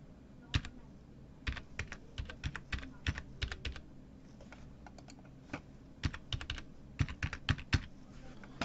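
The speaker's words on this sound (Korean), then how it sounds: "여기다가 이름과 주민번호를 치면은" Scattered, quiet keystrokes on a computer keyboard while a name and ID number are entered on an online customs registration form, separated by short pauses and set against a low room hum.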